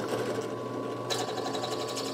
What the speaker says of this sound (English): So I've got it set up in the drill chuck. I've got the trimmer up here, so we're just going to start it